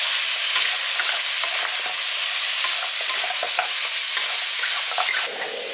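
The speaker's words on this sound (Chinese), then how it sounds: "把排骨倒进锅里，把葱蒜放进去炒一下" Pork ribs with scallion and garlic stir-fried in a wok give a loud steady sizzle with quick scraping stirs throughout, and nobody talks.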